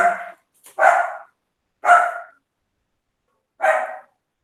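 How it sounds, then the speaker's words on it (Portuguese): A dog barks four times at close range, short sharp single barks spaced irregularly with silent gaps between them, alone with no talk. "essa é a minha cachorra."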